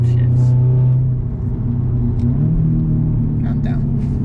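Manual car engine rumbling and revving through upshifts, a steady drone that dips and rises again as gears change, loud and close inside the cabin with a voice briefly over it.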